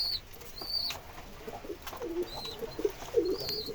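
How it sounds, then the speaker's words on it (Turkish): Tumbler pigeons in a loft cooing in repeated soft low phrases while feeding, close by, with occasional faint higher calls and light rustling. "Kuşlarımız yemlerini yesinler."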